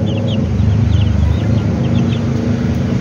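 Chickens cluck in short repeated calls over a steady, loud rumbling background noise.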